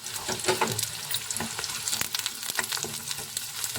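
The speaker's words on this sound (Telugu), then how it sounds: "ఇందులోనే కరివేపాకు కూడా వేసుకుంటున్నాను" Curry leaves hit hot oil with onions and green chillies for a fish curry tempering, producing a close, loud crackling sizzle with sharp spits and pops throughout.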